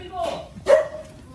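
A dog gives a couple of short barks and yips close by in a home setting, while people talk over and around it.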